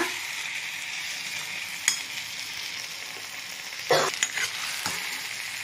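A spoon scrapes and stirs through a thick, sizzling non-veg gravy in a pan, with a few louder clinks against the metal.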